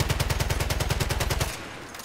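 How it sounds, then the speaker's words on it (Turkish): Rapid automatic gunfire from a World War I weapon in Battlefield 1 online play, a loud fast rhythmic burst of about fifteen shots that stops abruptly. "Ölü adama da mermi atarım saygıdan."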